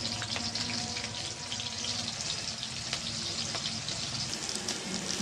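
Potatoes frying in hot oil with bay leaf in a pan give a steady, dense sizzle throughout, with faint clicks and occasional pops over the continuous crackle.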